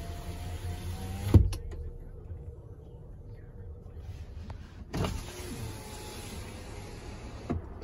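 The rear passenger power window of a 2017 Nissan Pathfinder runs with a quiet motor whine, bracketed by sharp thumps as it starts and stops, with a faint cabin hum beneath.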